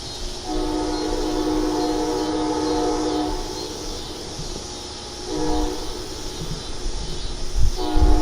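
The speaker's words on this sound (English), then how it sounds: "okay, you're hearing the train." A train rumbles steadily past with a long, sustained horn blast sounding over it, loud and fairly close, intensifying toward the end.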